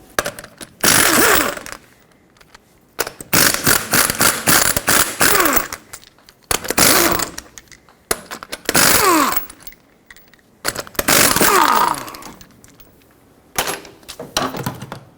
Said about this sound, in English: Now you can use a regular size socket to get all the 5 21mm lug nuts off.